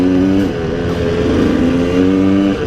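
A freshly rebuilt KTM 200 motorcycle engine being run in, idling with a steady loud drone and gently rising into modest revs before settling again, close up and continuous.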